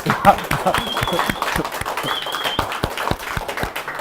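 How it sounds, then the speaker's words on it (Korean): People at a company's morning assembly give a short round of clapping, individual claps distinct and fairly close, with a tone sounding briefly behind them. "박수 한번 쳐주세요"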